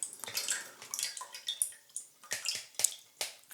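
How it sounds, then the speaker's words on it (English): Orange juice poured into a bowl for homemade marmalade gives soft, uneven splashes and drips at close range, quiet, with no talking. "Well, we'll empty the juices first into here."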